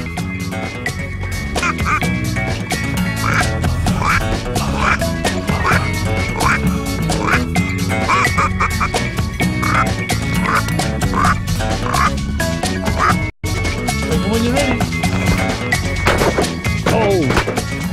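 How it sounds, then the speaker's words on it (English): Red-billed teal ducks quacking repeatedly over a dense, continuous background of other waterfowl and outdoor noise during a South African duck hunt, with some speech mixed in. "that is a red-billed teal. It's our fastest waterfowl."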